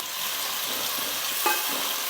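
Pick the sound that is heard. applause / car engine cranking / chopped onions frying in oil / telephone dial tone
chopped onions frying in oil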